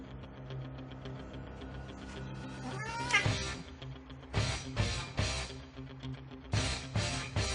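A six-year-old cat hisses and meows in a series of loud, close yowls and caterwauls, several bursts in quick succession with short pauses between, while someone in gloves squares off with it at home.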